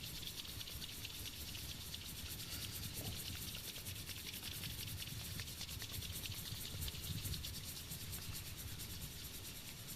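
Palms rubbed together briskly, a continuous dense swishing friction noise holding steady for ten seconds, quiet and close with no talk.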